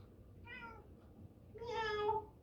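Two meows, a short one and then a longer, louder one, heard close against a quiet background hum.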